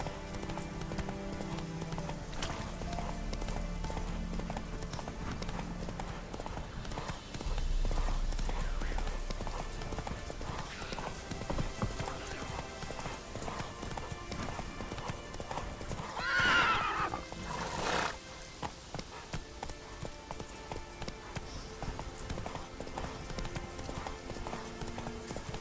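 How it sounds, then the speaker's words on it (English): In The Witcher 3 video game, a horse gallops with continuous rhythmic hoofbeats, snorting and whinnying partway through, while occasional voices are heard over the pounding gait. "Run, Roach"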